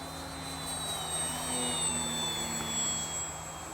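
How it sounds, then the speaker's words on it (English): An XFly-Models Glastar 1.2 m RC trainer plane flying in wind and rain, its electric motor giving a faint steady whine that rises and falls slightly against windy outdoor noise. "just watching the plane get smashed around by the wind"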